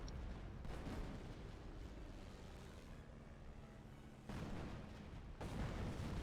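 A creeping artillery barrage in the video game Company of Heroes rumbles as a continuous heavy low roar, with deep booms rising and swelling near the end.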